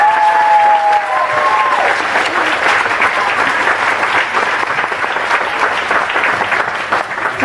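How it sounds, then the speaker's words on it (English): Children and an audience at a school event at Orton Hall clap together in a loud, dense burst that tapers slightly toward the end, with a brief tonal whistle or squeal early on. "So give yourselves a great big clap."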